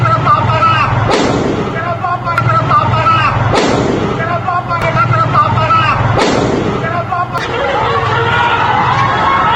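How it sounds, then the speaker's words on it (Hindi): Gunfire at a student protest in Siwan, Bihar, sharp reports cracking out at intervals of about two seconds over a crowd's murmur and a voice talking. "सीवान में फायरिंग भी हुई, जिसकी गूंज सुनाई दी"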